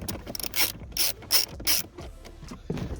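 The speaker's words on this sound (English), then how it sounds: "you need to remove the other 8mm bolt that's here in the back. So go ahead and unscrew this" A ratchet unscrewing an 8mm bolt on a Ford Focus during shifter cable removal, giving several quick, close clicking bursts in an uneven rhythm with short pauses between strokes.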